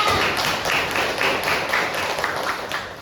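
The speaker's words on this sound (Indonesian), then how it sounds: "Oke, tepuk tangan buat Juliana" Students in a classroom clap for a classmate, a fairly loud, brisk burst of many hands with distinct individual claps audible in the texture, sustained throughout without speech.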